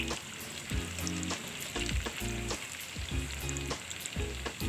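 Tofu fries in a pan for mushroom sisig, a continuous close sizzle with occasional turning and scraping sounds over soft background music, with no talk.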